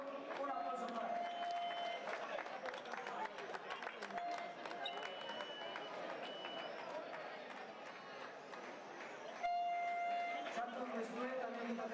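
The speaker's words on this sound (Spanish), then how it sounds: "un aplauso para él" Spectators at a night 10 km road race applaud a finishing runner, steady clapping and crowd noise running throughout beneath a loud announcer speaking over a public address system.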